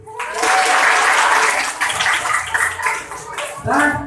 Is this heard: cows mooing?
no